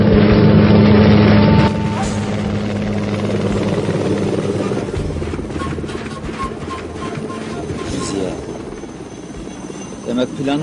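A helicopter flies overhead with steady, loud rotor and engine noise, heavier at first and then easing a little, while people talk beneath it.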